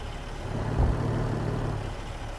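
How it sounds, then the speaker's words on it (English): A truck rumbles past near a parking lot, its low engine drone swelling and fading over a couple of seconds; no distinct air-brake hiss stands out. "I'll wait for this truck to go here"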